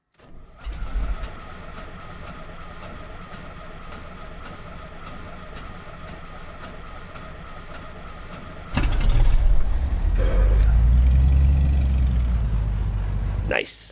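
The piston engine of a Beechcraft B60 Duke in Microsoft Flight Simulator cranks with a rhythmic starter whine and ticking, then catches into a louder, rough roar. A voice speaks briefly.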